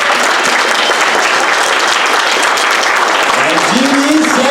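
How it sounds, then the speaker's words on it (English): A graduation audience bursts into loud, dense applause, sustained clapping filling the hall throughout, with a voice beginning to speak over it near the end. "Can we give them a round of applause?"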